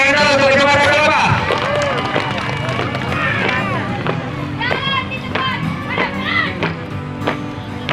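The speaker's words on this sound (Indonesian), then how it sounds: "tepuk tangan dulu untuk Kecamatan Kelapa" An audience in Kecamatan Kelapa breaks into loud clapping and crowd noise. Excited voices and shouts ring over it at first, then sharp, scattered claps continue as the cheering fades.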